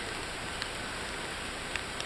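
Rain falls on a campsite in the early morning as a steady, even hiss, with a few faint individual drops standing out.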